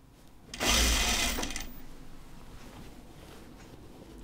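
A sewing machine stitches the curved seam of a raglan sleeve in one close burst of about a second, then fades to quiet room noise.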